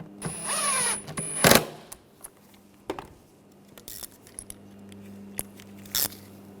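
Cordless power tool whirring in a short burst, then scattered clicks and taps as bolts are tightened on the intake manifold of a 2009-2013 BMW 328i xDrive 3.0L straight-six; close and moderately quiet, no talk.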